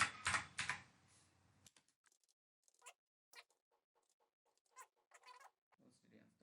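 Someone typing the word help into Python on a computer keyboard: a quick, close burst of keystrokes at the start, then a few scattered, faint clicks in a quiet room.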